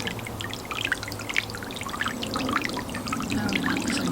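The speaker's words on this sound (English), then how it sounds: "the sunshine is trying to set off my little water fountain" A small garden water fountain trickles and splashes steadily outdoors in warm sunshine, a continuous bright babble of falling water close by with no talking.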